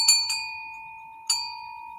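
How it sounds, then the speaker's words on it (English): A small bell with a pentacle on it is struck three times close by: two quick piercing rings, then a third a second later, each leaving a bright, sustained ringing tone, with no talk. "So it's a really piercing bell sound."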